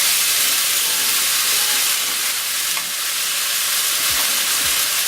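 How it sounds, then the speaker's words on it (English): Lamb browning with a medium onion in a hot pan, a loud continuous sizzle and frying hiss up close with no talking. "So my lamb's starting to brown now, so all I'm going to add is a medium onion."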